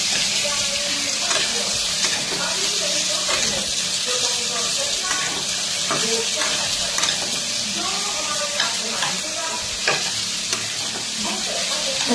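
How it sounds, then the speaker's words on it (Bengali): Chopped onion, tomato and capsicum fry in a pan while a spatula stirs them, giving a steady bright sizzle broken by repeated scraping strokes throughout. "এবারে পেঁয়াজ, টমেটো, ক্যাপসিকাম একসাথে ঢেলে দিলাম। ঢেলে দিয়ে তাকে একটু নাড়াতে থাকলাম।"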